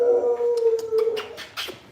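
An American Bully dog gives a long, drawn-out, coyote-like howl, rising into yips and whines near the microphone. No voices are heard.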